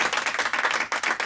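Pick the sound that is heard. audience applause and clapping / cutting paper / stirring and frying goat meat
audience applause and clapping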